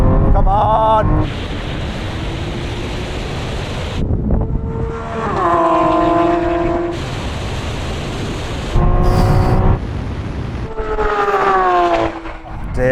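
A Lamborghini Aventador Ultimae and SVJ accelerate hard in a third-gear rolling drag race from 50 mph, engines roaring with rising tones through gear changes under heavy wind noise, loud and sustained.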